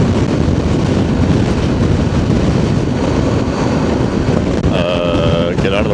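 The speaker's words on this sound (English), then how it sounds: "These gusts of wind are wanting to knock me over to the right." Strong gusty wind roars across a motorcyclist's microphone at speed, a constant loud rumbling buffet with no break, and near the end a brief tonal whine rises over the blustery noise.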